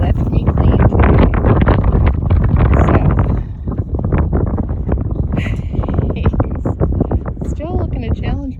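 Strong wind buffets the microphone outdoors near a chicken coop, loud continuous rumbling gusts throughout, with a person talking over it and faint clucking toward the end.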